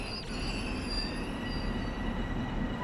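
An M7A commuter train in Train Sim World 3 braking to a stop at Grand Central Terminal, with a steady rolling rumble and high, drawn-out wheel squeal.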